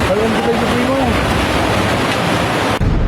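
Heavy sea swell roars continuously, waves breaking close by with a dense wash of water and gusty wind noise, ahead of an approaching typhoon.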